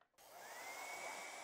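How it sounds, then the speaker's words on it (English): Hair dryer blowing steadily on a fresh layer of acrylic paint, a loud continuous whooshing roar with a faint whine that starts abruptly after a brief quiet moment and holds constant. "So I'm going to use the hairdryer and dry this."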